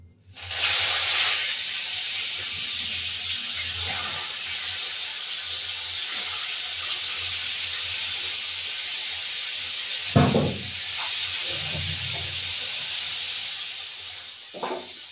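Small rui fish fry in hot oil with a strong, continuous sizzling hiss, near and steady, broken by a few short clattering bumps of utensils.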